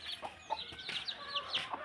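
A village hen with her chicks clucks softly in a farmyard, several short, faint clucks scattered across the moment with thin, high chirps mixed in and no voices.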